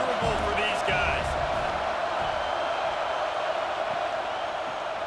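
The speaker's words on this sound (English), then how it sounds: "This crowd going to try to make life miserable for these guys." Stadium crowd noise in College Football 26 at a Boise State game forms a dense, steady roar. A couple of thuds come early, and a commentator talks over it.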